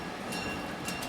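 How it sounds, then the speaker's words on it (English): Heritage passenger train on the Missionary Bridge Local leaving Grand Junction Station, a steady low rumble and rolling noise with faint clanks, heard close. "Welcome aboard the Missionary Bridge Local Train 100, departing Grand Junction Station"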